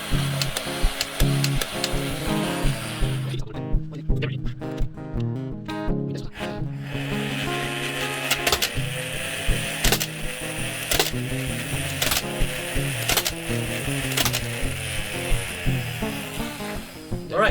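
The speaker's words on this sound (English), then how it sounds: "that was the firing demo of the Nerf Ultra 2" Motorized Nerf Ultra Two blaster running and firing a six-dart load: a steady whirring flywheel hum with rapid repeated clicking and thumps as darts launch, heard close and without talk.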